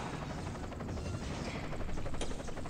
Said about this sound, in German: Ich höre ja auch schon wieder einen Helikopter